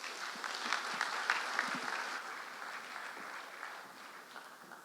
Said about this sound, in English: ladies and gentlemen, a round of applause for our amazing panelists and moderator